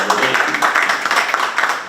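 An audience inside Istiqlal mosque claps in a dense, continuous patter of many hands, loud and close, lasting the whole moment.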